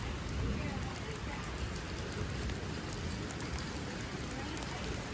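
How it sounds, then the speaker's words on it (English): Hail pours down during a severe storm over the Carolinas as a dense, unbroken roar of pelting ice striking surfaces, loud and close throughout. "Look at the amount of hail."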